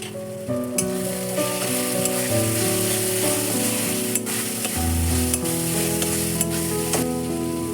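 Chilli and coriander powder stirred into mutton keema frying in a pan, a loud continuous sizzle with stirring scrapes, under steady background music.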